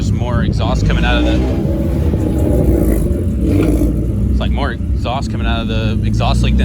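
A Honda Del Sol engine with a leaking exhaust rumbles and rasps steadily close by, while people talk over it throughout.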